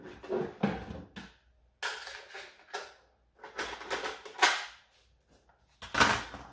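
Foam blaster magazines, including a snug 10-round one, being taken out and handled for a FluxLabs Nova blaster: sharp plastic clicks, rattles and knocks in short irregular bursts separated by pauses, close and fairly quiet, no talk.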